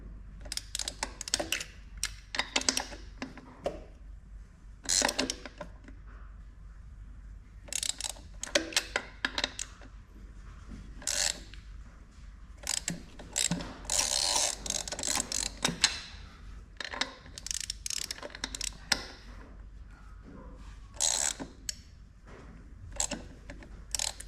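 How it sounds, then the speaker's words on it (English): An impact wrench and a hand ratchet tighten bolts on a Toyota Landcruiser HZJ75 during a 4WD system repair, heard as repeated short bursts of close mechanical clicking and rattling separated by quiet gaps. "I just nip them up with the rattle gun and tighten them up with a ratchet."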